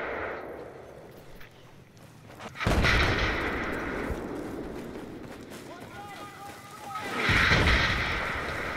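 In the video game Battlefield, mortar and gunfire produce two heavy, close blasts about four seconds apart, with fainter shots and players' voices talking in between.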